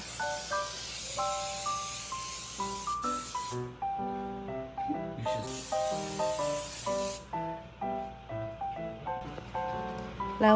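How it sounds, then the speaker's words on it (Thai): Olive oil sprayed onto a turkey being prepared for a Thanksgiving dinner, two distinct hissing bursts of several seconds each over background music. "ขั้นตอนถัดไปก็คือสเปรย์น้ำมันนะคะ น้ำมันมะกอก olive oil"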